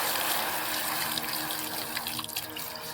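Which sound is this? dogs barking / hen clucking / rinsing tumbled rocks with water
rinsing tumbled rocks with water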